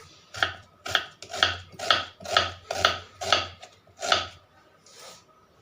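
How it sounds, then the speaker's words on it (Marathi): An onion is chopped finely with a knife, making about eight evenly spaced, crisp cuts against a board. The strokes are close and clear, with no talking. "कांदा बारीक कट करून घ्यायचा"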